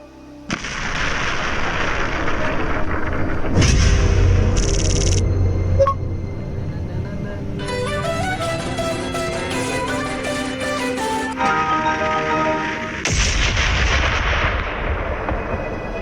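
Movie-style explosion blast effects, a deep booming burst near the middle with a second heavy blast toward the end, set among layered cinematic sound effects and music.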